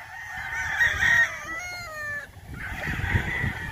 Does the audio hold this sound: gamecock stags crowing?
yes